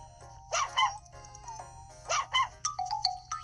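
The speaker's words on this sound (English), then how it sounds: "Oh, and that's a Chihuahua." A small Chihuahua barks in two short bursts of yapping about a second and a half apart, fairly close. Electronic chime-like tones follow near the end.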